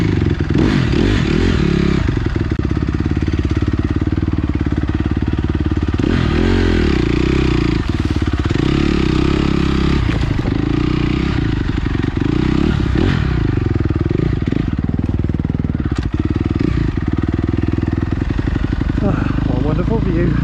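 A motorcycle riding along a road, its engine droning continuously and loudly close to the mic with heavy wind buffeting throughout, and someone speaking briefly over the noise.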